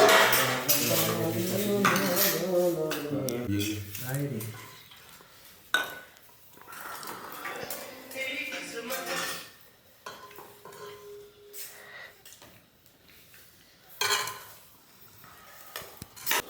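Dishes, pots and utensils are scrubbed and clattered in a kitchen, with close clinks and scraping strokes in uneven bursts, dense at first and then sparser with short pauses.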